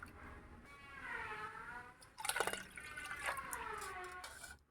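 Milk pours into a measuring cup for milk pudding, a continuous close liquid stream with a gurgling fill that briefly splashes louder midway, soft overall and without speech.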